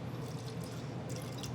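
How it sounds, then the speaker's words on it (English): About a tablespoon of water trickles and drips onto dried-out sourdough starter in a jar, a soft, steady close-up pour lasting under two seconds with no voices. "So I'm going to do about a tablespoon of water"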